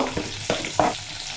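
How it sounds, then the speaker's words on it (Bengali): Okra (bhindi) frying in mustard oil, with a steady sizzle broken by three quick scraping stirs of the pan, heard up close. "এরপর এই ভেন্ডিগুলো ভেজে নেবো"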